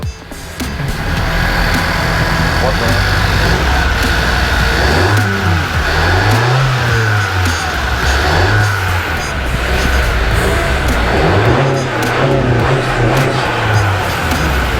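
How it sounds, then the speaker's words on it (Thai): Turbocharged 1.5-litre engine of a Honda Civic FC with a newly fitted open BMC air filter, running loudly and close, with a steady drone and several rising and falling revs in the second half. "ต้องลองสตาร์ทดูใช่ไหม ต้องลองเร่งใช่ไหม"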